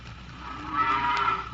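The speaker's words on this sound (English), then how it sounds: "80 fine cows line up at night for the milking" Dairy cows low in a farm barn, with one long, rising moo swelling in the middle, near and clear with no one talking.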